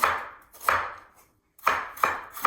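A knife chops through fresh ginger on a cutting board for a pork stir fry, in two close pairs of crisp, firm strokes separated by a short pause, with no talk.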